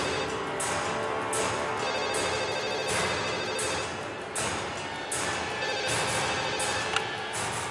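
A telephone rings repeatedly in a room, a steady electronic trill in regular bursts with short gaps, close and clear with no talking.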